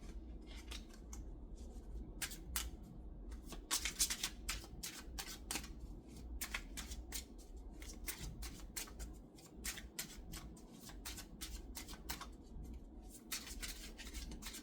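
Tarot cards are shuffled by hand in quick papery riffles and slaps, repeated bursts close to the listener at a low, intimate level, with no talking.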